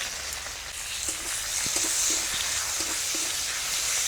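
Chopped onion sizzling in hot mustard oil in a wok, tossed over whole spices like bay leaf and cumin, a steady close hiss with occasional light stirring clicks.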